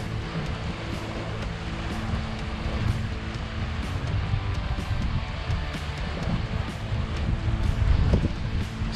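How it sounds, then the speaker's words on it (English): Steady outdoor wind roaring across the microphone on a beach alongside a constant wash that resembles surf, loud and unbroken throughout. "Super nice out. It's a little windy."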